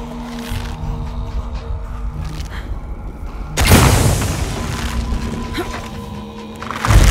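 A loud explosion in Shadow of the Tomb Raider strikes suddenly and booms on with a long rumbling tail while debris settles, shoving a platform loose, and a second heavy thud lands near the end.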